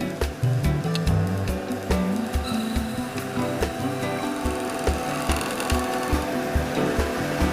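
Lathe turning an epoxy resin casting blank for a shaving brush with the tool rest set too low, giving a continuous scraping, chattering cut with rhythmic knocking thumps repeating steadily throughout, close and fairly loud.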